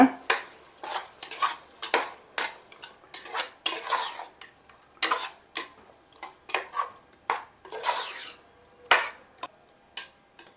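A metal spoon scrapes and clinks against a pot while tomato paste is stirred into mutton curry for Vaniyambadi biryani, a close, irregular run of clattering strokes with quiet gaps and no talking.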